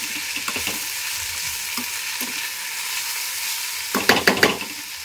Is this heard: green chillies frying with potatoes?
yes